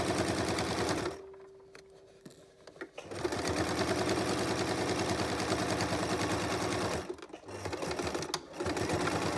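A sewing machine stitches apron fabric in fast, even bursts of rapid mechanical clatter, close and loud, stopping briefly twice before running on again.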